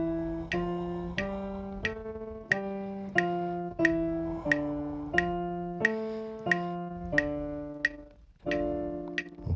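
Piano finger exercise in D hand position, right thumb on D and left pinky on the D an octave below: a steady run of evenly spaced two-hand notes stepping up and down, played clearly and alone.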